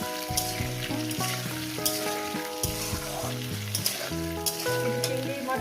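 Vegetables for a Bengali chorchori fry in a pan with salt, producing a strong continuous sizzle broken by scraping stirs, up close and with no talk.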